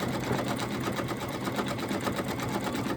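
An embroidery sewing machine stitches an Easter bunny appliqué, running as a steady, loud, rapid mechanical whir and needle chatter close by, uninterrupted for the whole stretch.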